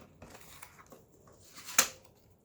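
Scissors snip through a sheet of paper for a handmade ephemera folder, a few quiet close crisp cuts with one sharper snip near the end, in an otherwise hushed room.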